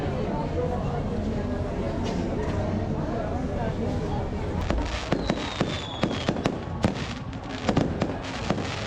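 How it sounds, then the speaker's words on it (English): Fireworks burst during an evening show in Villa de Leyva, Colombia, a steady rumble building into a rapid series of sharp crackling bangs toward the end, heard from a moderate distance. "That was a pretty cool fireworks show, and I love fireworks,"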